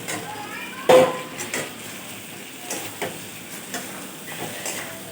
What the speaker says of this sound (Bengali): আলুটা দিয়ে খুব সুন্দরভাবে আমি আরও কষিয়ে নেব চিকেনটা